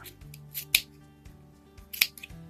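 Two sharp scissor snips through yarn, about a second apart, close and crisp in a quiet room.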